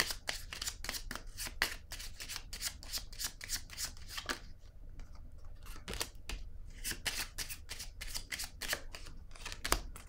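Tarot cards being shuffled and laid down on a table, a rapid run of crisp papery flicks and slaps, close and fairly loud, with a brief quieter pause midway before the flurry resumes.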